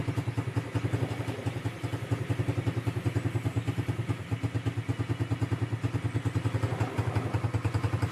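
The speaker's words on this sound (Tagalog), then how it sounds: "pinapaandar ko po yung motor" A motorcycle engine idling steadily after being started, with a close, rapid low thumping pulse that continues throughout and a brief dip near the start.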